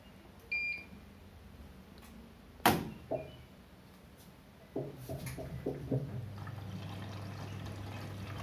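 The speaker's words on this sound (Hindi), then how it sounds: "तो यहाँ पे पानी आना स्टार्ट हो गया है, साड़ी धुल रही है।" A Bosch front-load washing machine starts up with a few soft beeps and clicks, then settles into a steady low hum as water begins filling the drum for a silk saree wash, fairly quiet and close.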